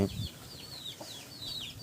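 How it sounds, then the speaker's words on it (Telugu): A newly bought Bhimavaram-breed rooster gives soft, brief clucks and chirps, faint and close, with a short thump at the start. "ఇది మనం తెచ్చిన కొత్త కోడి పుంజు నెమలి పెట్టమారు"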